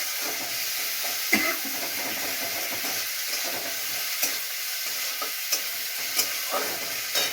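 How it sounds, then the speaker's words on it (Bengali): Constant hissing sizzle of onions frying in a pan, with occasional soft clinks and scrapes of stirring. "পেঁয়াজটা একটু লাল লাল করে ভেজে নিতে হবে।"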